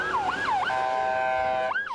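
An ambulance siren wails loudly and close, sweeping up and down in a repeating cycle with a brief steady tone in between, heard alone without talk.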